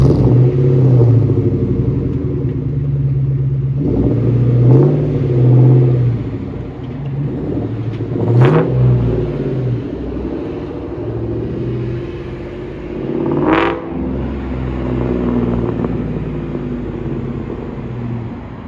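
A 2003 Ford Mustang Mach 1 with its 4.6 V8 and Magnaflow exhaust burbles in a deep, loud rumble close by. Several sharp revs rise and fall against the steady idle, with no voices.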